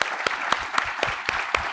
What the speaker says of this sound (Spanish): Les pido me acompañen nuevamente a darles un fuerte aplauso a nuestros expertos.